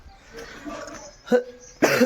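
Two short, harsh coughs close by, separated by a brief pause, after a moment of low murmuring.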